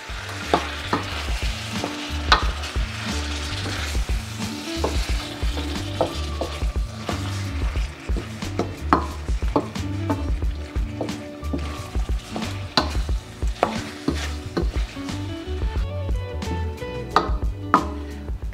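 Pork shoulder frying over medium heat while being stirred in a pan, a steady sizzle broken by frequent scraping and clinking of the spatula against the pan, with no speech.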